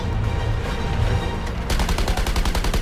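Rapid gunfire from the video game Suicide Squad: Kill the Justice League, sustained bursts that turn into a fast, steady rattle of shots partway through, loud and close, with no voices over it.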